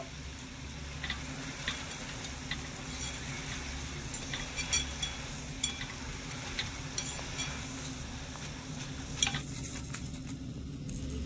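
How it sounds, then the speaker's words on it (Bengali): Palm fruit pitha fry in hot oil on a low gas flame, giving a soft continuous sizzle with occasional light clinks and stirring taps from a utensil, heard alone with no voices. "সবগুলো পিঠে ভেজে ভেজে চিনি রসের মধ্যে নিয়ে নেব"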